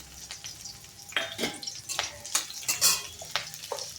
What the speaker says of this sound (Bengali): তেলটা গরম হয়ে যাওয়ার পরে এই তেলের মধ্যে দিয়ে দেব পেঁয়াজ কুচি আর একটু কাঁচা লঙ্কা কুচি